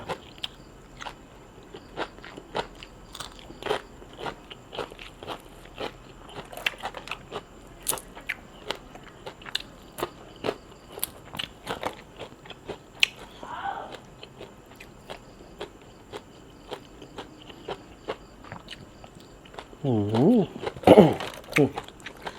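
Crispy fried shrimp crunch between the teeth in a long series of sharp, close bites and chewing crackles, with brief voice sounds near the end.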